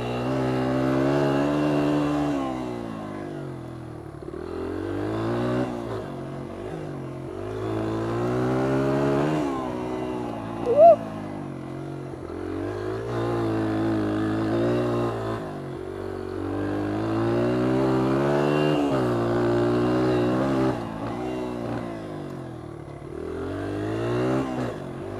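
A Honda XR100 dirt bike engine rides a woods track, buzzing close and steady with repeated rises and falls in pitch as the throttle opens and closes.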